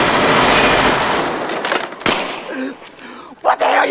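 Gunshots in a hood beat tape sample, a loud rapid burst of fire at first that fades into single cracks, with shouting voices coming in during the second half.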